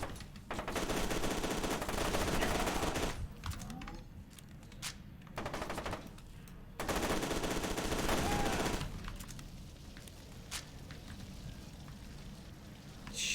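Combat shotgun fire in the shooter game F.E.A.R. 2: dense, loud bursts of rapid blasts and rattling gunfire in long stretches, with quieter gaps between volleys.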